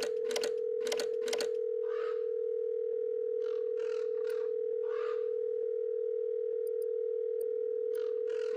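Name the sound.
Ringdinger phone key tones in Biomutant video game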